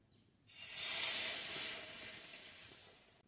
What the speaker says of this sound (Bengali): এবার কড়াইতে সামান্য পরিমাণে পানি দিয়ে দিব।